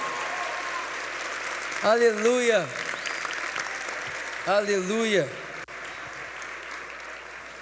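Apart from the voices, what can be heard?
church congregation applauding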